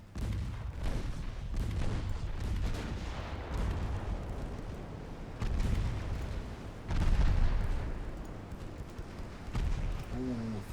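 Eleven-inch naval guns fire in the warship game Ultimate Admiral Dreadnoughts, heavy booms rolling one after another over a constant roar of battle noise, with a short voice near the end.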